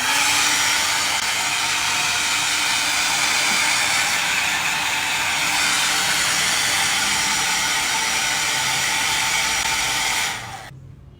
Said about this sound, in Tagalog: don't forget to dry your hair.